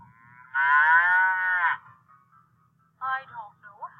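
Cow mooing in two calls, a long loud sustained moo followed after a pause by a shorter one, close and clear over a faint low background hum.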